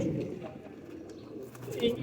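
Pigeons in breeding season give soft, low cooing, a few rounded calls over a muffled background, with faint speech mixed in.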